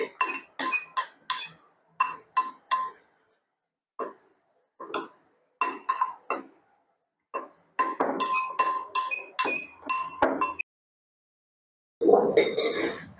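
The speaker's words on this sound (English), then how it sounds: "I will stir very well to mix the two powders together." A spoon stirs powdered fenugreek and a binder powder together in a glass, making bursts of bright clinking and scraping against the glass with short pauses between them, close and clear.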